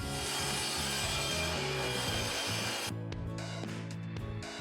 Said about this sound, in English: I'm cutting a rabbet into the 2 2x2s.